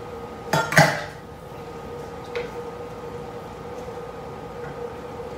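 While chicken stews with green chilis, a metal utensil clanks and scrapes twice across the bottom of a skillet, sharp and close, then gives a couple of softer taps over a low background hum.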